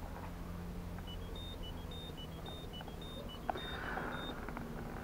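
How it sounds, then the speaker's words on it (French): Repeated electronic warning beeps from a convertible's retractable roof system, signalling that the roof hooks are not locked, sounding in an even rhythm of short tones over a low steady engine or cabin hum. "Ce signal indique que je n'ai pas verrouillé les crochets"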